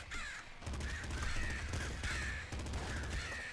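Crow enemies in the video game Nuclear Throne caw repeatedly, harsh rasping calls in four or five bursts over a steady background of game noise.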